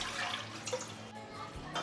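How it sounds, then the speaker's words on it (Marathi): Water pours into a kadhai set on a gas stove, a steady close hissing splash that runs unbroken for a couple of seconds. "पाणी घालतोय"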